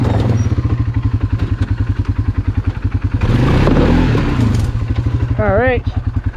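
An ATV engine on a rough trail idles and pulses with a fast, heavy throbbing rhythm, then swells briefly in a short rev before settling again, loud and close, with someone speaking a word over it.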